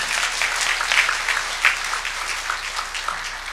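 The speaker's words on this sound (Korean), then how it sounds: "하나님께 영광의 박수를 드립니다." A church congregation at a Wednesday worship service claps together in praise, a dense, even wash of many hands that holds steady for several seconds, filling the sanctuary without voices on top.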